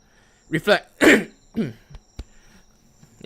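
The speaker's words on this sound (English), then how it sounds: "I just can't stop coughing." A few harsh, close coughs in quick succession, followed by softer throat noises and a short click, then near silence.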